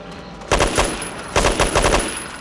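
Two loud, close bursts of rapid automatic gunfire in Left 4 Dead 2, each rattling for about half a second, separated by a short pause.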